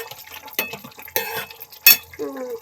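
Spoon stirring chicken curry with coriander and garam masala powder in a pan, a few short scrapes and clinks against the metal with soft wet squelches, close up and uneven in rhythm.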